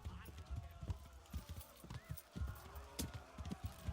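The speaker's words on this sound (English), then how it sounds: "grab a horse" Rhythmic hoofbeats of a horse galloping in the medieval video game Kingdom Come: Deliverance, steady clip-clop close by, running under talk.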